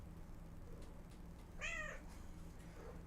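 A house cat lets out a single clear meow close by, rising and falling over about half a second, against a quiet background hum with no talking.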